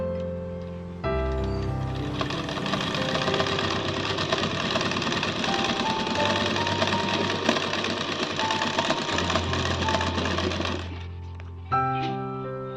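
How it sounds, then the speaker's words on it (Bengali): A sewing machine set for small stitches runs continuously for about ten seconds, loud and close, with a dense rapid mechanical whirr and stitching clatter, starting and stopping cleanly with a brief clunk near the end. "দেখো এবার আমি সেলাই করছি।"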